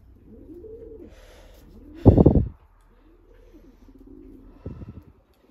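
Pigeons at a flyers loft cooing steadily at close range, with one loud burst of wing flapping midway and a shorter flutter near the end.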